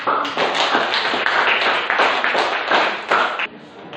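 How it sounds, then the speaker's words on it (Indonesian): A small group claps for a presenter in a classroom, a dense, steady patter of many hands, close and fairly loud, lasting several seconds before stopping abruptly. "Tepuk tangan dulu Mas"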